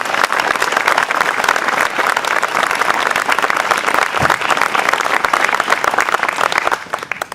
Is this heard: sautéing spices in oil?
no